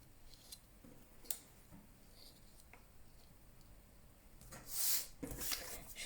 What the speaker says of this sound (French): Je vais venir découper ça dans du noir.